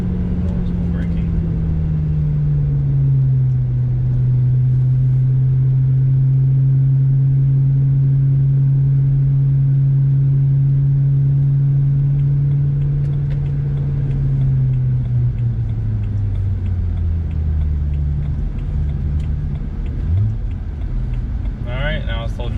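A BMW E90 M3 driving slowly around a neighborhood with freshly installed rotors, a steady low engine drone with gently shifting pitch as it cruises and eases off, heard close and continuous.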